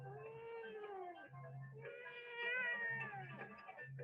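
A human voice imitating a cat meowing during a spoken Ladino folk tale, drawn-out wavering meows repeated several times, close and clear over a low steady background hum.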